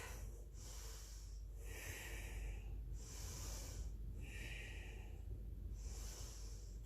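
Deep, slow breaths are taken while holding a yogalates balance pose. About four or five soft, airy inhales and exhales follow one another evenly against quiet background hiss.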